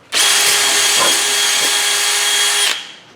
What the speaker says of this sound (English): Needles, I'm trying to plug the air hose into this thing. Come on, DeWalt.